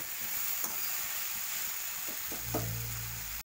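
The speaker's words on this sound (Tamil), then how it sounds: "இந்த ஸ்டேஜில் வந்து கீரையும் போட்டுருங்க. ஒரு 5 மினிட்ஸ் இது நல்லா வதங்கட்டும்." Greens for keerai adai sautéing in a pan, a steady close sizzle with a few sharp stirring clicks and a low rumble near the end.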